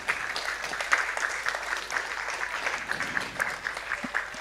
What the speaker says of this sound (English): Barbados, round of applause for Barbados.